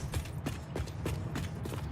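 Two horses' hooves clip-clopping at a steady, brisk rhythm in a video game, fairly faint against a low background hum.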